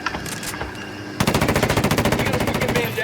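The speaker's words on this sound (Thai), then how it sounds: "ยิงยิงชัปเปอร์ก่อน มันจะได้ตามกูไม่ได้" Sustained automatic gunfire rattles in a rapid, even burst aimed at a helicopter in Ghost Recon Wildlands, starting abruptly after a second of quieter game ambience and continuing loud and close to the end.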